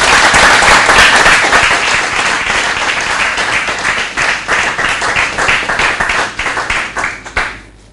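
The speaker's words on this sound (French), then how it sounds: "sous vos applaudissements" Loud, close audience applause at a televised parade show, dense clapping that thins toward the end into scattered, distinct hand claps before stopping.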